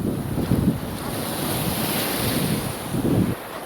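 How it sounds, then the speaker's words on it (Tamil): Large ocean waves break and wash up on Karaikal beach, a continuous loud roar of surf with heavy wind buffeting the microphone and two swells rising clearly. "பார்த்தீங்கன்னா அலை பெருசு பெருசாக வருது"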